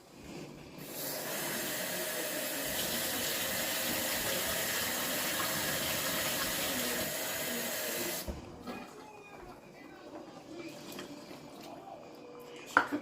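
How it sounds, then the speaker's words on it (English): Two cups of water poured into a pot for pasta, a steady hissing pour lasting about eight seconds before stopping, followed by quiet kitchen clatter. "you're going to need 2 cups of water. So let's put that in here."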